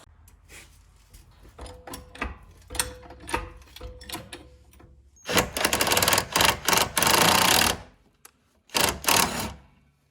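An impact wrench works a suspension nut on a Honda CRX. Light mechanical clicks and taps come first, then loud, close, rattling bursts of several seconds each, separated by a short quiet gap.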